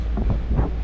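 Steady wind buffeting the microphone outdoors on a boat heading to fishing grounds on the Pacific Ocean, a constant low rumble with gusty swells, no voices.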